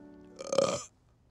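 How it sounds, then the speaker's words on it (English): A single short burp, fairly quiet and close, swells and fades in under a second with no talking over it. "Nope, it's just a burp."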